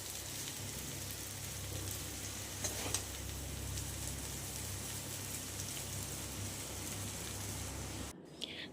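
Boiled chowmein and vegetables are stir-fried and mixed in a pan, giving a steady close sizzle with a low constant hum, a couple of faint scrapes partway through and an abrupt stop near the end.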